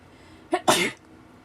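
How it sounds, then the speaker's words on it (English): A single close sneeze: a short sharp intake followed by a loud burst, then quiet. "I have to sneeze."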